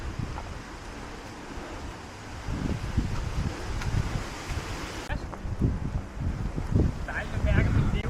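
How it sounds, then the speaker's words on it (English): Wind gusts buffet the microphone near a hilltop fortress in Kosovo, a continuous rough rush that grows stronger in the second half, with a voice heard faintly underneath. "It's also getting a lot more windy right now."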